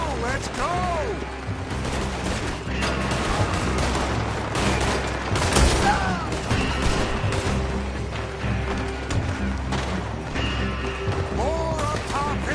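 Sustained gunfire in the Red Dead Redemption 2 oil-field shootout on PS4, with dense volleys of shots and crashes running throughout, mixed with game music and shouted voices.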